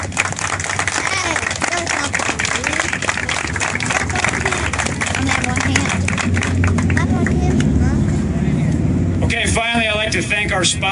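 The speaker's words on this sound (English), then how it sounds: "Let's give our evaluators a round of applause." An audience at the Survival Trial STVII Daybreaker ARAP awards claps steadily for the evaluators, a dense, continuous patter of many hands with crowd murmur and voices mixed in throughout.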